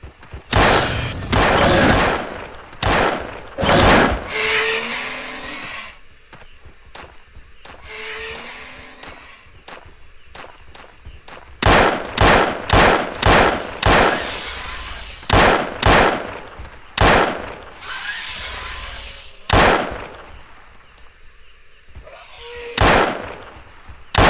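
Gunfire from shooting at enemies in the video game Trespasser: loud sharp shots in bursts and clusters, some rapid runs of several rounds, separated by short quieter gaps with faint game ambience.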